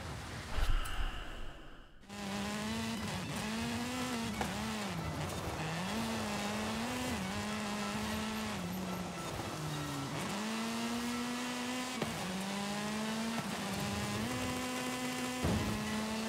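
An Aston Martin driven in Forza Horizon 5 revs hard, its engine note climbing and dropping repeatedly with quick gear shifts and a brief tire squeal, after a short burst of other noise at the start.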